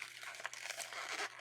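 A plastic bag being folded down at the top while assembling a mini chip bag, giving soft, close crinkling and rustling crackles through the clip with no talk.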